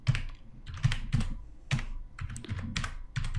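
Code is typed on a computer keyboard in a close, clear series of separate key presses and short clusters, each with a soft thump and bright click, fairly steady in pace with brief gaps and no voices.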